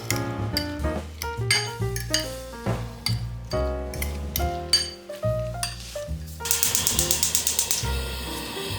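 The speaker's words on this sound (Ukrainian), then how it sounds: "У яйця додаємо нарізаний болгарський перець та зелень. Перемішати." Eggs mixed with chopped bell pepper and herbs are beaten in a bowl, producing rapid metallic clinks and taps against the dish, with a quicker flurry of strokes near the end under background music.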